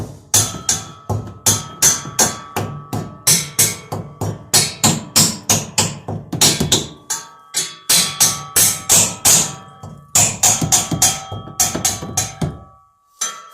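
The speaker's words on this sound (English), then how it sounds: "I'm going to use a hammer to install this one because it's what's close." A hammer tapping an exhaust hanger into place on a 2017 Ram pickup during a Corsa exhaust install, a long run of sharp metallic strikes in quick, uneven bursts, close and loud.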